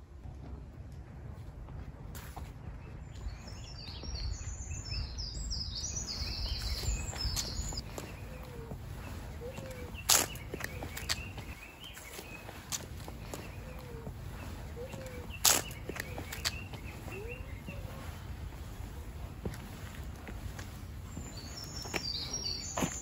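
Birds chirp in a quiet forest near Hakone, Japan, scattered short calls over a soft rustle of trees, with a couple of sharp louder snaps or footsteps nearby.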